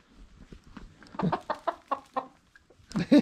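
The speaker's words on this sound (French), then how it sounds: "Bonjour les poules." Hens in a village chicken coop cluck in a run of short, close, evenly spaced calls that rise to a louder burst at the end, with quiet farmyard ambience between them.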